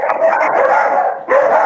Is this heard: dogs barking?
yes